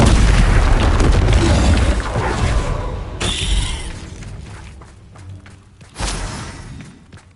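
Bombarda spell blast in Hogwarts Legacy: a loud booming explosion right away, rumbling and fading, then a second sharp burst near the end amid game effects.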